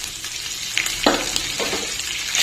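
Gongura leaves frying in a hot oil tempering, a soft continuous sizzle with a couple of brief stirring scrapes, close by and with no voices.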